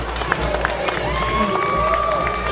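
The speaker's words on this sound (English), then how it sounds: "the crowd is giving her a great reception back here at CCW" Crowd at a CCW wrestling show cheering and shouting for Diamond Doll's return as she slaps fans' hands, a steady loud roar of voices with scattered whistles and yells throughout.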